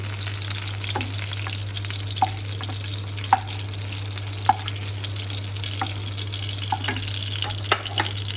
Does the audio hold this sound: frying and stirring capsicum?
yes